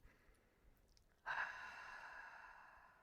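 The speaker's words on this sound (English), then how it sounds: "And then exhale through the mouth." A slow, steady exhale through the mouth during a guided breathing exercise, a soft airy rush that begins abruptly and holds for almost two seconds, close and quiet with no talking.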